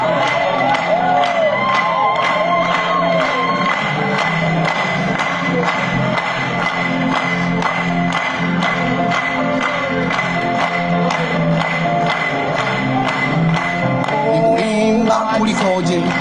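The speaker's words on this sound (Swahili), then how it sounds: "Hebu tumpigie makofi." A congregation at a Swahili-language church service clapping and cheering, a loud, dense crowd roar with shouts and whoops that continues without a break.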